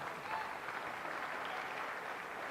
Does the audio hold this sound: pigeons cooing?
no